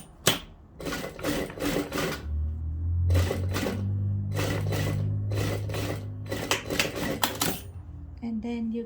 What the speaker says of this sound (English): This side you sew it first,